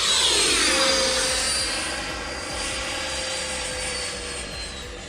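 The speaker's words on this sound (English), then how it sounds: "you hear the blast of the jet as it goes past and then it gets quiet again as it goes in the distance" A radio-controlled model jet makes a low, military-style pass with gear down: a loud whining blast that sweeps downward in pitch as it goes by, then fades steadily into the distance.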